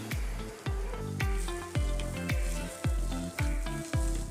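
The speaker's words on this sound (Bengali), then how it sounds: "শুকনা মরিচ পেঁয়াজ আমি ভালো করে একটু নেড়ে চেড়ে দেব" Dried chillies and onion sizzling in hot oil while a utensil stirs them, with regular scraping strokes about every half second over a steady loud fry, no talk.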